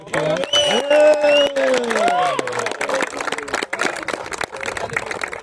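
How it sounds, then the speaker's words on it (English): A crowd applauds and cheers at an outdoor post-match cricket presentation, with loud, sustained clapping that rises and then thins out, while voices talk over it. "So can we have a round of applause for Majid?"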